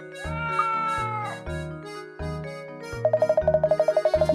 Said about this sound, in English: What's this cat doing here?